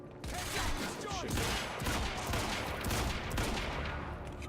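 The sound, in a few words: carbine rifle gunfire in video game Quantum Break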